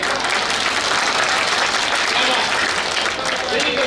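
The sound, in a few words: wedding guests clapping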